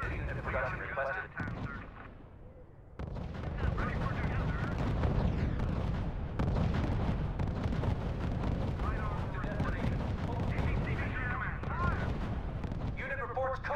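Artillery and gunfire rumble through a World War II strategy battle in RUSE, a dense, continuous barrage of booms and crackling shots, briefly thinning before resuming, while radio-style voice announcements come through over the din.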